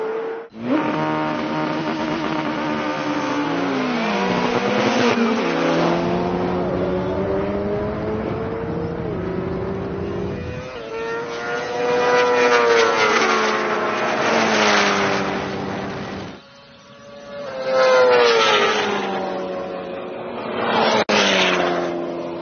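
A BMW S1000RR motorbike and convertible cars launching in a drag race, engines screaming loud and close as they rev up through rapid gear changes, each shift a sharp drop then a rising wail, repeated over several runs.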